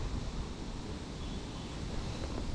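Steady wind buffeting the microphone while fishing, a constant low rushing roar without breaks.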